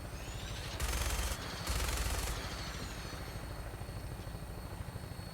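A helicopter in Fallout 4 drones with a continuous rotor chop, while two loud bursts of rapid gunfire erupt early on and then the steady engine thrum carries on alone.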